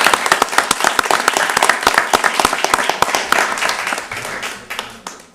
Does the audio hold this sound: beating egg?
no